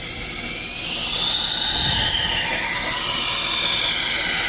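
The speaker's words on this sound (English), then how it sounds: "I really like sharpening kind of in that 600 grit range or 600 RPM range." A powered knife sharpener grinds a knife edge at around 600 RPM, with a steady, loud broadband whir and hiss running continuously throughout the whole stretch.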